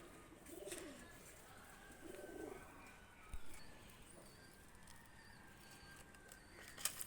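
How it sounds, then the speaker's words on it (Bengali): Pakistani high flyer pigeons cooing softly in short rolling phrases, faint and fairly close, with light rustles and a small tap near the end, no voices. "তো ভিউয়ার্স এক পেয়ার কবুতর নিয়ে আসলাম, দেখেন চরম অসাধারণ কবুতর"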